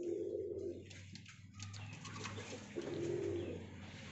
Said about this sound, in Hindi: ये पचमी कबूतरी है मेरे हाथ में